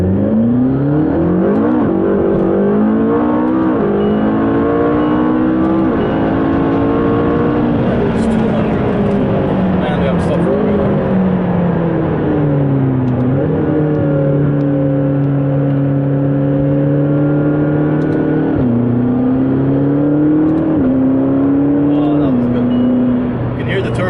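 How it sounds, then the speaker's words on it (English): A turbocharged sports car engine accelerating through several gears, its pitch climbing and dropping repeatedly, with a whirring turbo whine as it spools up, layered over the loud, steady drone. "you can hear the turbo spooling up so well"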